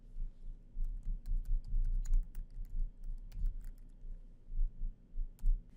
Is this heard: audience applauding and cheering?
no